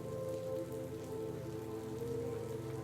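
Steady rain falls in a city setting, a soft continuous patter with a low background hum and no voices.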